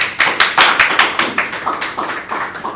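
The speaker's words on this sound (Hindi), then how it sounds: "अब तालियां भी बजा सकते हैं।" An audience claps along in a steady rhythm during a live Hindi standup poetry performance about Karna from the Mahabharata, with close, sharp, evenly spaced claps and no talking.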